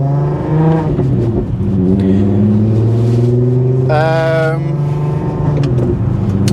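A loud, steady supercharged Nissan Skyline R32 engine drone with a brief rise in revs midway, the motor humming and pulling close up on a dyno with no talking.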